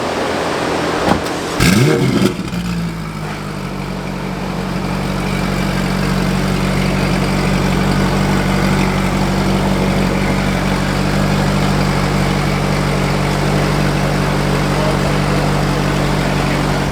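A tuned Ferrari F8 Tributo with a Novitec straight-pipe exhaust starts with a sharp bark, then settles into a loud, steady rumbling idle with a deep, raw exhaust tone.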